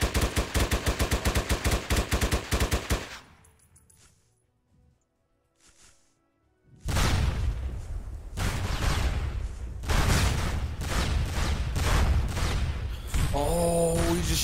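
Automatic gunfire in the online shooter SOCOM 2 hammers in a dense, rapid burst, falls quiet for a few seconds, then resumes as heavier overlapping volleys of shots, loud and close with no talk.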